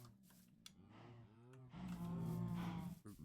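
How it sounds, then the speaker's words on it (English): Minecraft cows moo in the video game, several drawn-out bovine calls in quick succession, close and clear with no talking. "So I don't know that I need to keep all of these cows now."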